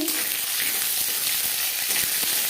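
Mustard seeds dropped into hot oil with fried dried chillies for aam dal crackle in a steady, close sizzle with faint pops, continuous and even throughout.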